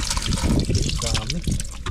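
Liquid pours into a container with a steady trickling splash while several people talk over it close by.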